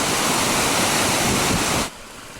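Along the Timberline Trail, a mountain stream rushes in a loud, steady broadband wash of flowing water with no voices, then drops abruptly to a softer background hiss near the end.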